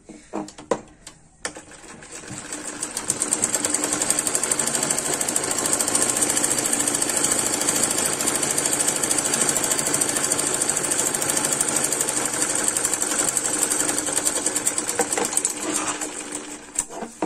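A sewing machine runs continuously while stitching garment panels together, giving a rapid, even mechanical chatter that starts after a few short bursts and holds steady for over ten seconds before slowing.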